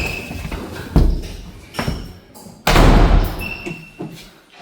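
An apartment interior door thuds shut, with a few nearby knocks and bumps before a louder, heavier closing thump that rings briefly in the room.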